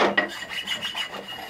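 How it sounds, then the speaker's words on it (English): A sharpening stone rubs across the back face of a ring gear from a 9-inch differential in a close, steady series of short rasping strokes with no voices. "we'll come through and dust the back of it with a stone"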